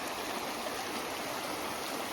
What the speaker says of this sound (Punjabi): ਇੱਥੇ ਪਾਣੀ ਮੀਂਹ ਕਰਕੇ ਆ ਰਿਹਾ ਰੋਡ ਦੇ ਉੱਤੇ